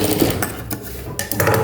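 A sewing machine runs double stitching along the shoulder seam of a uniform with a collar, making a loud close whirring rattle in short bursts with brief pauses between.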